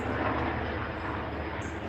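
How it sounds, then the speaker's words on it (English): A low helicopter drones overhead, a loud, steady roar with a faint pulsing thump underneath. "That helicopter is low."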